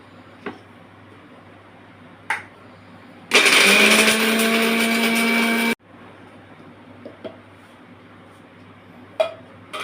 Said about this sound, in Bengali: আমি মিক্সিতে গুঁড়ো করছি।